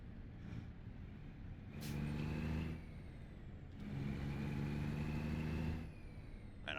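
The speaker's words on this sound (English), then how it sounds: "I love the sound of this engine." Heavy truck engine in American Truck Simulator, a steady diesel drone with two long loud surges of engine revving and a sharp hiss of air brakes, no talking.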